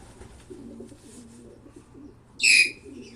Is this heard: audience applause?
no